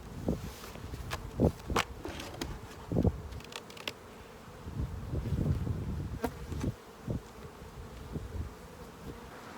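Steady, dense buzzing of many honeybees close by at an open hive, with occasional louder individual buzzes swelling and fading as bees fly past.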